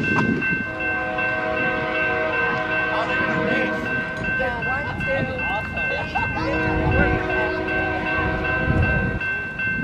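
A train rumbles past at close range near Fostoria, its horn sounding a long, loud, steady chord over the heavy rolling roar of the cars, with people talking beneath the noise.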